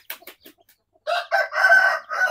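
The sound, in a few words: chickens and chicks in a coop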